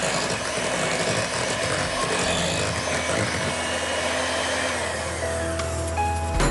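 An electric hand blender whirs through a wheat cake batter, a loud steady motor drone that shifts pitch partway and then winds down near the end.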